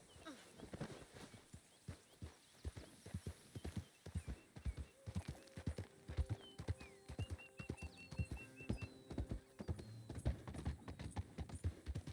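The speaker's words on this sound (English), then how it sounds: "Oh, look, more wild horses." Wild horses' hooves clip-clop in a steady walking rhythm in Red Dead Redemption 2, with a soft neigh partway through and faint ambient tones behind.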